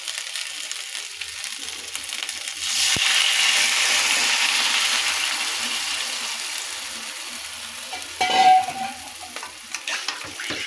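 Water poured into a pan of frying cauliflower and fish curry, a loud hissing rush that swells and slowly fades, followed by a scraping stir and a few clinks near the end.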